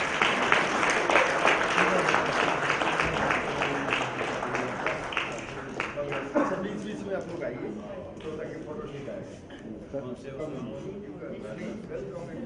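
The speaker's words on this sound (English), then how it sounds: "A big round of applause for them, gentlemen." Audience applause for prize winners at a valedictory ceremony, steady broadband clapping filling the hall and slowly thinning over about twelve seconds, with some voices mixed in.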